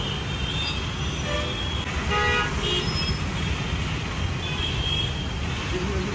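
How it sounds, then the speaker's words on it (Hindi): Busy road traffic in an Indian street jam, with car and vehicle horns tooting repeatedly over a steady rumble of engines, while people talk nearby. "उधर पूरा ट्रैफिक लगा है, बताओ इंसान जाए तो जाएगा"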